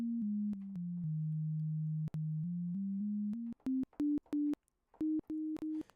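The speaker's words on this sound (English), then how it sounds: "You can hear a pure sine wave." A clean, pure sine-wave tone from a synth built in Ableton Live steps through a series of pitches, held notes giving way to short clicked bursts, nothing else around it.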